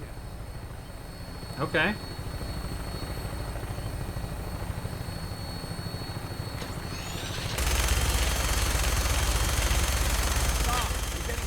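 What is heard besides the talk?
Vertibird aircraft engine and rotors in the Fallout 4 video game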